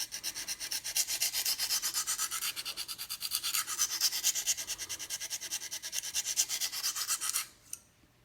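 Steady back-and-forth strokes of a knife edge across a KME sharpener stone, a continuous close rasping scrape with even rhythm that runs for about seven seconds before stopping abruptly, followed by a single faint click.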